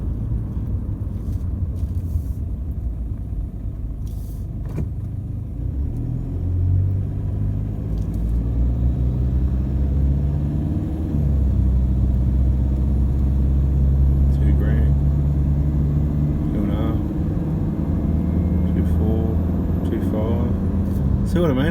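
A vehicle engine that has just had its injectors replaced runs with a steady low rumble and faint even rattle, close and continuous as it idles and then pulls away, with someone talking over it.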